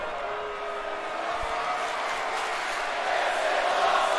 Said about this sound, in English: And the crowd chant amplifies after that